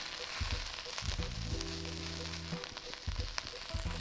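Onions sizzle steadily in a pan as the base for a bulgur wheat and chickpea veggie burger, a constant close frying hiss with low tonal hum passages layered beneath.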